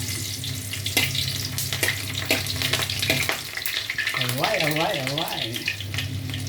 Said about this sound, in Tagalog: Maggisa na tayo. Ayan, unahin natin ang bawang.